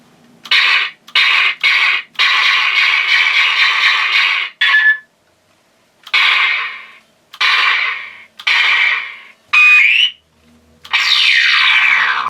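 Rapid electronic blaster shots from a Blast-FX E-11 toy blaster replaying the DLT-19 heavy blaster effect, loud bursts in short groups with gaps between, each a bright zapping tone, some ending in a falling whine.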